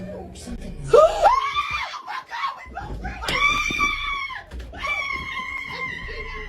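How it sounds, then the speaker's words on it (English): Two women scream together in loud, shrill, rising bursts, first one sharp cry and then a longer sustained wail, with chatter and laughter mixed around them. "they both screamed at the very end"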